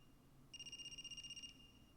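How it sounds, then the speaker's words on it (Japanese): A mobile phone ringtone in the video game AI: The Somnium Files gives a single faint, rapidly pulsing electronic trill lasting about one second. "携帯の 着信音か。"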